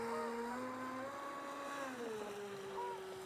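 A Traxxas Disruptor 4S RC boat runs at low throttle, its electric motor giving a steady faint whine that bends up and down in pitch as it turns, over a constant background hiss.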